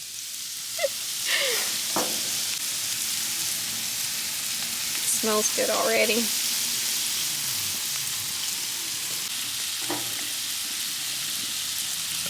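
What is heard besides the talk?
blackened chicken sizzling on a Blackstone griddle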